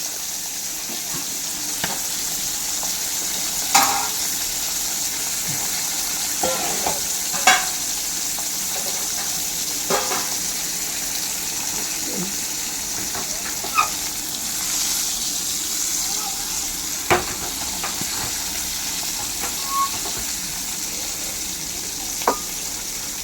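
Thoran, a stir-fry of grated coconut with a little turmeric, frying in a pan: a steady, close sizzle broken by occasional spatula scrapes a few seconds apart, with no talking.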